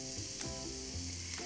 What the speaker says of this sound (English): heat a tablespoon of extra virgin olive oil in a skillet. Add minced garlic and sizzle.